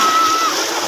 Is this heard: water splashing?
yes